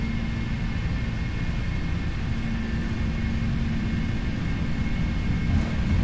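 Engines of a PMDG Boeing 747-400 roar on the takeoff roll in a flight simulator, a loud, steady, unbroken rumble with a faint whine above it.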